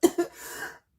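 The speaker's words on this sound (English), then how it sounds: "a bit of a coughing fit there" Two sharp coughs followed by a rougher, throaty clearing sound, close and fairly loud, then silence.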